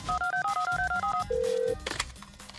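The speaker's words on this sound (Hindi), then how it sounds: "स्टेप 4, शोमू का दोस्त शोमू के बाप को फोन करता है" Telephone dialing: a quick run of short keypad tones in an even rhythm, then a longer steady tone, then a brief burst of noise at the end; clear and close with no talking.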